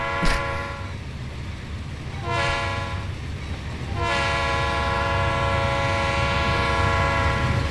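A video-game locomotive horn, from the RS3L horn model in Trainz, sounds in three blasts, two short then one long sustained, over the steady rumble of a train.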